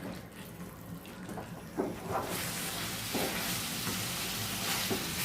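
Marinated chicken being sautéed in a pan at home, with a soft, low background that swells into a loud, steady sizzle about halfway through, broken by a few light stirring knocks.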